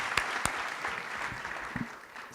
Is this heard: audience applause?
yes